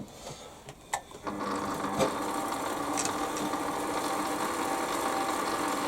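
A Warco metal lathe takes a light 5 thou cut, a steady machine whir with faint rhythmic ticking that starts after a second of quieter shop noise and holds evenly to the end.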